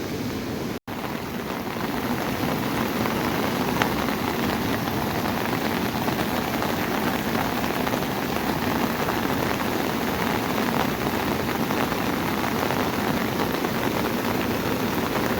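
Heavy monsoon rain pouring down near the river at Anjap in Karjat, a dense, unbroken roar of downpour lasting throughout, loud and close with no voices.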